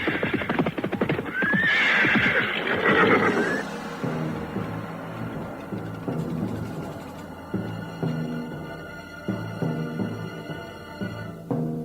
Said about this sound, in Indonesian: mereka menunggu derap kaki kuda yang semakin lama semakin dekat